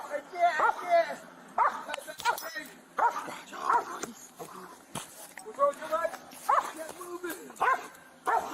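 Police dog in an arrest scene, giving repeated sharp barks and yips in bursts amid urgent talking from people close by.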